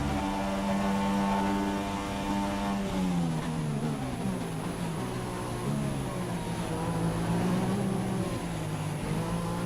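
A Ferrari-engined Formula 1 car races in the F1 2016 game on PC, its engine note loud and continuous, dropping and rising through gear changes and revs.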